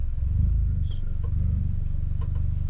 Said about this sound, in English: I want this actually just for the guys to actually hear what this car actually sounds like